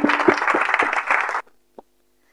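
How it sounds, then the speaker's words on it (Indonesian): A congregation claps for God during a children's online church worship service: dense, lively applause for about a second and a half, then it cuts off abruptly, leaving near silence and one faint final clap. "Berikan tepuk tangan buat Tuhan."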